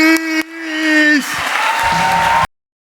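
A crowd in Athens breaks into applause and cheering as Greek basketball legend Nikos Galis comes on stage, swelling over an announcer's sustained voice and cutting off sharply after about two and a half seconds.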